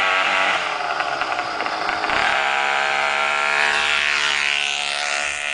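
Small two-stroke engine on a PedalChopper custom 3-speed motorized bicycle runs loud and close, revving and droning with a buzzy, rising and falling whine, no voices over it.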